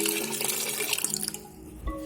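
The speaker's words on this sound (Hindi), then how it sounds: "इसमें मैंने तकरीबन 1 जग पानी ऐड किया है" Water from a jug poured into a pot of beef for nihari, a steady splashing gush that fills most of the moment before tapering off, close and alone with no talk.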